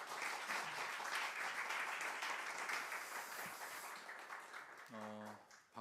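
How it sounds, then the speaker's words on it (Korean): Applause from a church congregation at a new-sanctuary dedication service as a pastor is welcomed, steady clapping for several seconds before a voice starts speaking near the end. "목사님을 큰 박수로 모시겠습니다"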